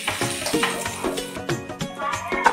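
A bay leaf and cumin seeds fry in hot oil in a pan for a mutton and cauliflower curry, giving a soft, steady sizzle with light stirring scrapes.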